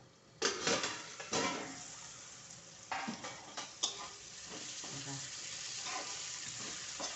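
Raw tomatoes cook under a lid in a pan on a gas stove, giving a steady close sizzling hiss broken by a few sharp clinks and knocks of utensils.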